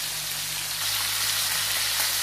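Fish fries in an oiled pan for a soup dish, giving a steady, close hiss of sizzling fat that runs unbroken throughout, with a low hum beneath.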